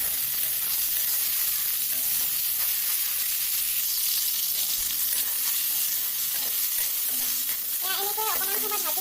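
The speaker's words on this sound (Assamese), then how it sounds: "এতিয়া পিঁয়াজখিনি ভাজা হৈ গৈছে। মই এতিয়া মাংস টুকুৰা দি দিম, চিকেন টুকুৰা।" Chicken pieces sizzle loudly in a pan with already-fried onions, a dense continuous crackle and hiss with occasional scraping as they are moved about, close up and without talk.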